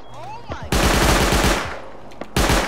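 Gunshots in the survival game Rust, a fast burst of automatic fire rattling out loudly for close to a second, then a short pause before another loud burst starts.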